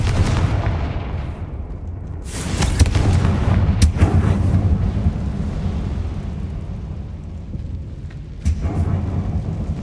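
Confringo blast spell cast in the game Hogwarts Legacy, a deep booming rumble of fire bursts with sharp cracks near 2.5, 4 and 8.5 seconds over steady low roar.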